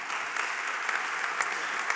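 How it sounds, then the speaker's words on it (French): Audience applause for the jury president at a university thesis-presentation final, a dense, even wash of many hands clapping throughout, steady and fairly loud with a few sharper claps popping out. "je vous prie d'applaudir d'abord la présidente du jury, Cécile Martin"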